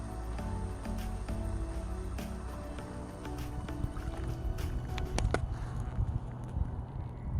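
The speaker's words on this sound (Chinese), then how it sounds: "注意听水管的声音，你就可以知道现在水还有没有在排出。" Water drains through the drain hose of a water heater being flushed, a steady gurgling rush with low rumble and occasional knocks throughout, moderately loud and close.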